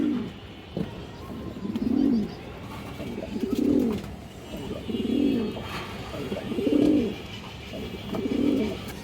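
Pigeons cooing at close range, five deep, rounded coos repeating at a steady interval of about two seconds over faint background noise.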